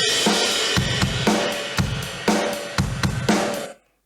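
A drum kit heavily compressed at a 13:1 ratio plays a steady beat, punchy kicks and snares with sustained cymbal wash, ending abruptly after a few bars.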